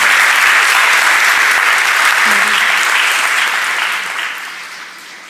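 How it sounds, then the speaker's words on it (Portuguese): A crowd applauds loudly at a church graduation ceremony, sustained clapping that gradually fades toward the end. "Palmas para a Ana Clara."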